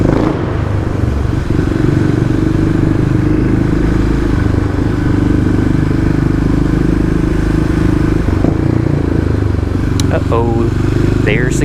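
A Kawasaki KLX351 EFI dirt bike runs close by with a loud, rough engine drone and clattering, rising in short revs, with a person talking over it.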